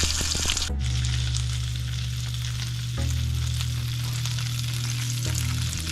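Salmon searing in hot oil in a pan, prepared as garlic butter salmon, produces a loud, steady sizzle with crackles, interrupted by a sharp clatter near the start and brief shifts as the pieces are moved, with no voices.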